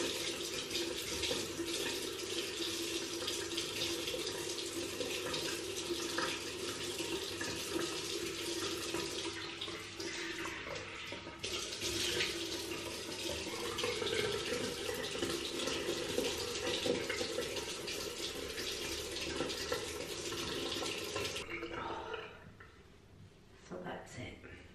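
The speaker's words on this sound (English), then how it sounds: "use the tap. A little bit more water and that will foam up." Water runs steadily from a tap for about twenty seconds to foam up a facial cleanser, a continuous close splashing hiss that stops abruptly near the end, followed by brief quieter handling sounds.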